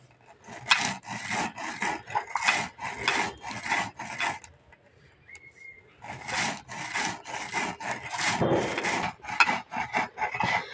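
Crispy fried rice is ground by hand into a paste for chaler nadu, heard as close, rhythmic rubbing and scraping strokes that pause briefly midway before the steady grinding resumes.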